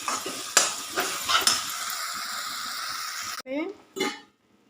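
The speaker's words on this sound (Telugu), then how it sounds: "ఇది వేపుకుంటా ఉన్నాను." Gongura leaves stirred and fried in a pan, a steady sizzle with scrapes and clinks of the spatula, ending in a few sharper stirring strokes before falling quiet.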